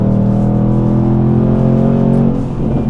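A straight-piped 500bhp Jaguar XFR revs its exhaust, a loud, deep droning roar held steadily near the listener before it briefly dips and returns.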